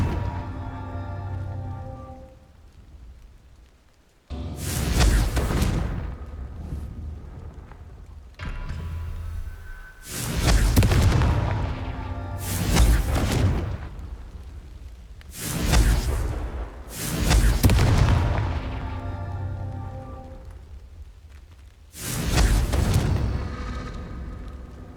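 Confringo fire spell blasts in Hogwarts Legacy, about six loud, booming bursts going off at irregular intervals with rumbling tails between them, no talking.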